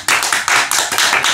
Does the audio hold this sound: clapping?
yes